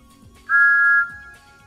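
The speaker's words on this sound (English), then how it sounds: "A different take of Thomas's whistle is used here" A single short, clear steam-engine whistle from Thomas the Tank Engine sounds as one steady tone of about half a second, standing alone over faint background.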